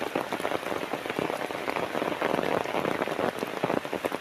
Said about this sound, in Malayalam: വലിയ ശക്തമായ മഴയാണ് മഴയുടെ തീവ്രത വർദ്ധിച്ചുകൊണ്ടിരിക്കുന്നു